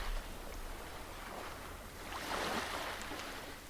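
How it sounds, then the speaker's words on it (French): Ocean waves on a beach wash in a continuous broad rush of surf, swelling louder toward the end, steady and fairly distant with no voices. "tu écoutes simplement le bruit des vagues"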